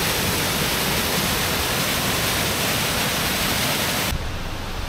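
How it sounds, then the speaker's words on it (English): Rushing water from a waterfall in remote northern British Columbia pours in a dense, loud, unbroken roar that fills the whole stretch, with no voices over it. "There it is over there, the waterfall."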